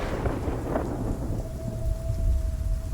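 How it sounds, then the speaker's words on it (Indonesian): Steady rain falls on a roof while strong wind gusts around it, forming a dense, continuous wash of noise with low rumbling underneath and a faint sustained tone in the background, with no voices. "Sambil terdengar rintik-rintik hujan di atas atap disertai angin kencang."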